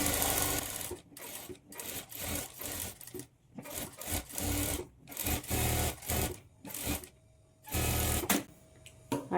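A sewing machine runs a seam to attach lining onto the main fabric of a boat-neck blouse, in many short choppy bursts with quick stops between, close and fairly loud.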